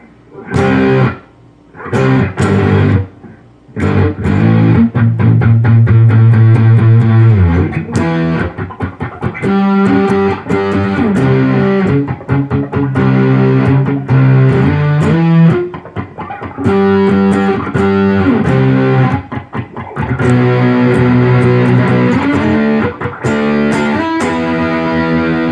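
Electric guitar through a ProCo RAT2 distortion pedal with the distortion at 12 o'clock and filter near 1:30, loud, saturated chugging riffs and strummed chords with short pauses, dense and continuous.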